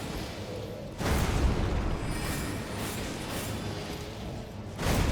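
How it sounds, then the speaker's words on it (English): A boss's follow-up explosion in Elden Ring, heavy broadband booms: one sudden blast around the first second that rumbles on for several seconds, with a second blast starting near the end. "There's a follow-up explosion."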